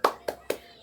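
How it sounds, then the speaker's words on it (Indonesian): A school class claps a spirit cheer: three quick, sharp claps in a row, close and evenly spaced, like a short rhythmic clapping pattern. "tepuk semangat."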